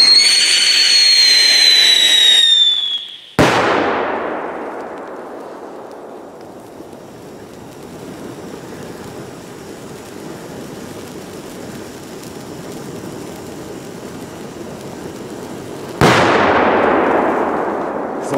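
Funkstark 10 firecrackers go off outdoors, with two sharp, loud blasts about thirteen seconds apart, each trailing off in a long rumbling decay. A high whistling whine from other pyrotechnics comes just before the first bang.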